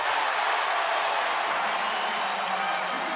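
Steady roar of a college basketball crowd cheering and applauding at a Buffalo versus James Madison game, a dense, continuous wash of noise with no breaks.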